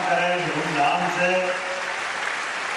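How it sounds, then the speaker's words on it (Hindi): An audience claps at a state-level school enrolment campaign launch event in Bhopal. Steady crowd applause fills the hall, with a voice speaking over the first part before the clapping continues alone. "आप भी ताली बजा करके आज के इस अभियान का शुभारंभ करें धूमधाम से"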